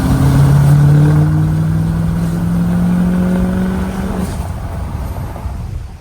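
An L5P Duramax diesel truck engine and exhaust under way, a loud, close droning roar with a rising tone that holds for about four seconds, then eases off into a lower rumble.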